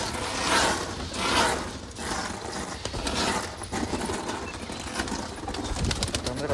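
Pigeons coming in to eat scattered grain flutter and shuffle close by, with soft cooing and wing flaps over a steady outdoor background, no talking.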